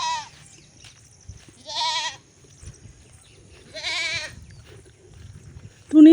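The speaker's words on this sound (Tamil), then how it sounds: "நம்ம ஆட்டுக்குட்டி ஊட்ட விடுறதுக்கு வந்தோம். கத்திட்டு கிடக்குறான்." A young goat kid bleats in two distinct, drawn-out cries a couple of seconds apart, close and fairly loud over a quiet outdoor background, with the start of a third call at the end.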